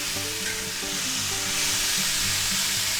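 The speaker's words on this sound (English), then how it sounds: "we're going to put 2 tablespoons of minced garlic in there. Give that a good stir." Minced garlic stir-fries with beef in a hot pan, giving a close, steady sizzle with stirring scrapes and a faint tonal background under it.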